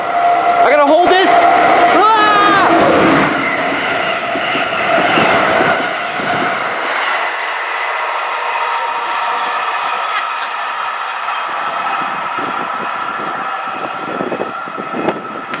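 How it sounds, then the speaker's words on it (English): Amtrak P020 Crescent passenger train rushing through BWI station in Maryland, loud and close with a horn blast and squealing at the start, then a sustained roar and rhythmic clatter of cars rolling past, easing toward the end. "Here comes Amtrak PO20, the crescent here."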